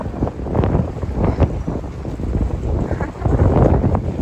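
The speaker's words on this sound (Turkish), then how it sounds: "Hava o kadar rüzgarlı ki kendimi çekmeye cesaret daha edemiyorum." Strong wind buffets the microphone outdoors in a continuous low roar and rumble, with gusts rising and falling throughout.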